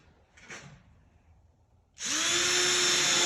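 A power drill with a paddle bit boring into wooden trailer decking, starting abruptly after a near-silent pause and running loud and steady as it spins up and grinds through the board.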